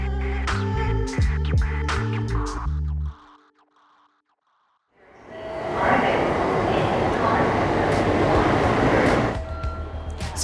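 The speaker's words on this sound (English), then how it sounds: "I'm here at the train station." Train rumble at a Tokyo railway station: a few seconds of broad, steady mechanical noise with tonal hum, a brief near-silent gap, then a sustained loud roar of a train moving close by, with no talk over it.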